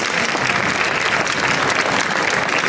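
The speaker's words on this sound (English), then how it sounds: "let's give them, OPG, a big round of applause" Sustained crowd applause at a Toronto soccer day event marking one year to the 2026 FIFA World Cup, steady dense clapping filling the whole stretch, loud and close with no pauses.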